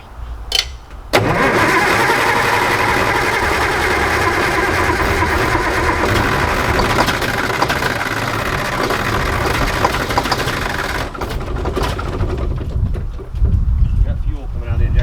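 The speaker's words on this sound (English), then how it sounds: "There you have it, guys. The Mack started up" Old, rotting Mack truck diesel engine cranking and catching, then roaring loudly and steadily at close range for most of the clip, with voices talking over the running engine.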